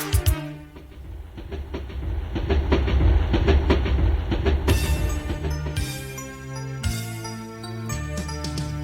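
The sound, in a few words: steam train chugging and clattering, in a children's song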